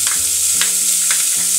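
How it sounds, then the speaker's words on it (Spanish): Chopped onion sizzles steadily in hot oil in a heated pot, a loud, close frying hiss with a few soft stirring scrapes and no voices. "Vamos a echarle un poco de aceite y una cebolla picadita."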